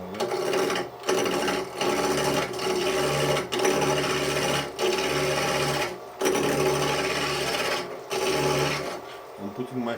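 A 3/4-inch Continental spindle gouge shaves wood on a lathe while rounding a handmade tool, giving a loud, continuous rasping hiss broken by brief regular dips as the blank turns.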